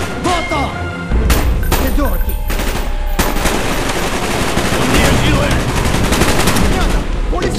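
Gunfire in the video game Call of Duty Black Ops: dense, rapid automatic bursts and heavy thumps roar continuously and loudly throughout, layered over a busy battle din.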